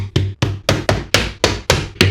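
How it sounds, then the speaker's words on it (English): A hammer drives wire tacks into a wooden vivarium with nine sharp, close strikes at a brisk, fairly even rhythm, each a loud crack with a short ringing decay. "I'm just going to hammer these in just so it tucks the wires away"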